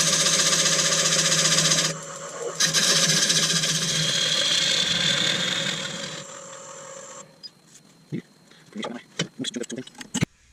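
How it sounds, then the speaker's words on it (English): A spinning lathe whirs under a steady, gritty sanding hiss as a wooden crotch bowl is sanded, with a short break partway through. Then the sanding stops and scattered knocks and clatter follow. "Doing a bit of sanding."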